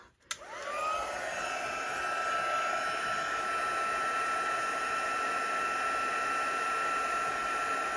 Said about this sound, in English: So we've got my heat tool.